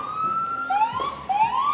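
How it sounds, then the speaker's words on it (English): Emergency vehicle sirens in a sheriff's procession at the Colorado State Fair parade, wailing loudly with rising sweeps and overlapping tones, close by. "I love to hear the sirens and see the lights"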